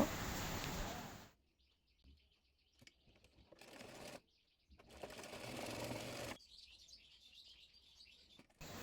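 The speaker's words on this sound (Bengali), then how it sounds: "এরপর গলার সঙ্গে গলার পাইপিনের কাপড়টি সেলাই করে নেব" Sewing machine stitching piping fabric onto a frock neckline, heard as short, quiet bursts of whirring motor with pauses in between, plus a few faint high chirps.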